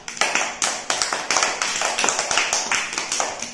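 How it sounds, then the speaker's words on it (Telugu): Children in a first-grade classroom clap together in quick, slightly uneven rhythmic bursts, loud and close, filling the room with sharp repeated claps. "క్లాప్స్ కొట్టాలి."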